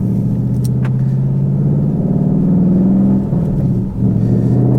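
A 2023 Ford Mustang GT Premium with a six-speed manual, in track mode, accelerates on the road, its engine a loud, steady low rumble that climbs in pitch. Near the end it dips briefly, as if on a shift.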